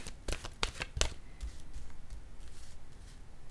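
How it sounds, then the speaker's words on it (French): A tarot card is laid down on a table, making a few soft, quick papery slaps and shuffling rustles close up, then faint quiet handling. "Je vais déposer une nouvelle carte pour terminer"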